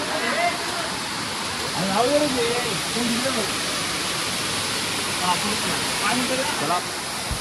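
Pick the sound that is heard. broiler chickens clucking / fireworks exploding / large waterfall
large waterfall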